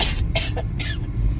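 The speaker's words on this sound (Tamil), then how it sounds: "இருமல் வேற." A person coughs three times in quick succession, close and fairly loud, with no talking.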